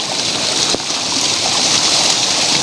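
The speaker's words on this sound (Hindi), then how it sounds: "इतनी ऊंचाई से गिरने वाला ये जलप्रपात कितने वर्षों से लगातार निरंतर इसी गति से गिरता आ रहा है" The Tirathgarh waterfall, running with reduced flow, pours in a constant broadband roar and hiss, steady and close, with no voices.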